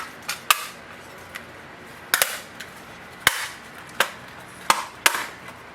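Plastic parts of an HP DeskJet 3700 printer's scanner unit being pressed shut and snapped into place, a series of close, sharp clicks and snaps coming in irregular bunches.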